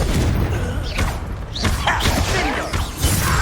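Explosive blasts from the Confringo fire spell in the Hogwarts Legacy game, several booming impacts and crashes with whooshing bursts over a dense, loud rumble.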